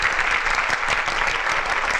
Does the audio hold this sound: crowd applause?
yes